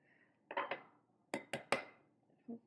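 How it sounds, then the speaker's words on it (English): A plate set over a baked flan and flipped, heard as a few soft clattering knocks of ceramic and pan, then a trio of sharper clacks and a final faint tap, close and quiet with no talking. "we get to put the plate over the flan, hold the bottom of the plate, and flip it over"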